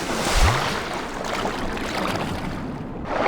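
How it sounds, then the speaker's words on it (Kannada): A boat moving on water in the video game GTA 5, with a continuous rushing wash of water and wind and a brief low engine swell near the start, fairly close and without talk. "ಇಂತ ಬೋಟ್ ಯಾವ್ದೋ ಒಂದು ಸಿಕ್ತು"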